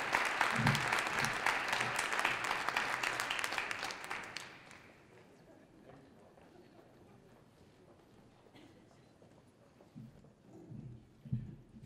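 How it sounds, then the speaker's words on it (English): An audience at an education event on California's schools bursts into loud applause, which fades after about four seconds into a quiet room with scattered claps and faint shuffling. "Let's just give him one round of applause before he leaves."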